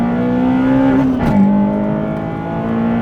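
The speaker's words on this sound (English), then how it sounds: "All you need to do is drop down a couple of gears, 5th, 4th, 3rd, 2nd, floor it." A 2000s EP3 Honda Civic hatchback accelerating at full throttle after a downshift to second, the engine note climbing loudly, a brief shift break near the middle, then rising again, close and up front.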